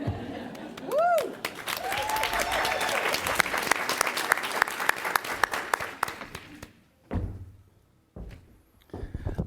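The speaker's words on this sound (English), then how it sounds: "So first, another round of applause for Rose and this distinguished panel." Sustained audience applause fills a hall at an International Women's Day event, a dense clatter of many hands that stops abruptly near the end, followed by a few isolated thumps and handling noises.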